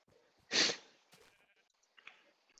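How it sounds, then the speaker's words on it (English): A single short sheep bleat from the game Minecraft, clear and fairly close, followed by faint quiet game noises. "Oh, sheep just spawned."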